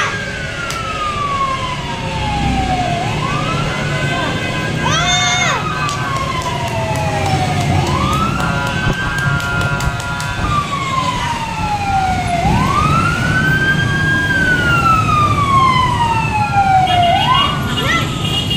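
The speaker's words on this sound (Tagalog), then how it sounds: "Ayun na yung isang bumbero!" A fire truck siren wails close by in the Philippines, sweeping repeatedly up and down in long rising and falling cycles over traffic rumble, loud and continuous.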